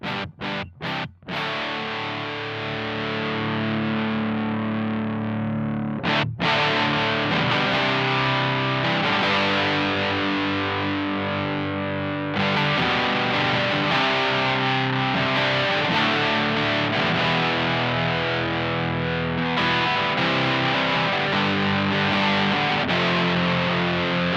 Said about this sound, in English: you get a lot more crunch going on, a lot more distortion